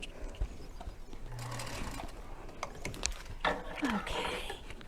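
A Featherweight sewing machine stitches down the centre of a drawn line, giving short bursts of close mechanical clatter and ticking with pauses between.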